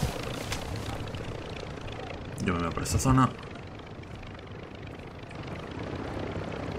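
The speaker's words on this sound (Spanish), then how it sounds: "Vale, viene un helicóptero." A helicopter in the video game Call of Duty Warzone 2.0 approaches with a steady rotor and engine drone beneath game noise while a player talks over it.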